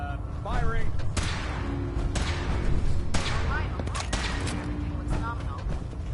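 Gunfire and heavy booms in the video game Fallout 4, repeated sharp blasts and thuds over several seconds, mixed with voices talking.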